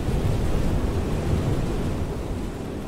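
A storm in the sailing game FAR: Changing Tides gives a steady, dense roar of wind and crashing waves. A low rumble that may be thunder runs under it. No voices.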